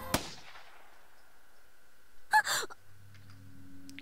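A single sharp gunshot cracks once in the visual novel Steins;Gate, briefly and fairly loud, followed by a gasp and a low sustained hum in an otherwise quiet scene.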